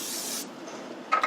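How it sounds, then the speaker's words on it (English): Cooking spray hisses in one short burst onto parchment paper for a baking vessel, close and soft, followed by a couple of faint light taps. "And then just a quick spray on the parchment."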